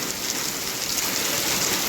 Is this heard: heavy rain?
yes